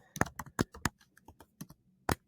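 Computer keyboard typing, with a few sharp, close keystrokes spaced irregularly and a short pause before one final key press, heard alone.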